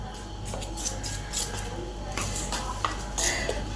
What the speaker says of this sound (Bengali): চাল বাটার ময়দাটা ভালো করে মিশিয়ে নিলাম।